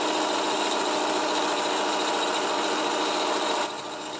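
Sewing machine stitching stretch fabric for a turban headband, a steady, close, continuous motor whir that drops slightly in level just before the end, with no talking.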